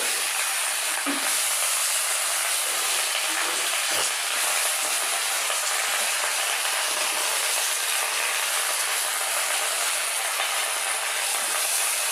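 Malabar spinach greens sizzle steadily in a hot pan, a constant bright hiss with a few faint knocks early on.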